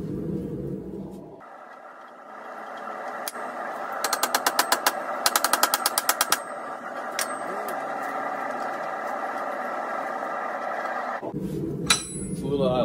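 Hot steel is hammered into bends for a forged paper towel holder, with a run of sharp, rapid metallic strikes in the middle over a steady loud rumble of forge or machinery, and muffled voices at the start and end.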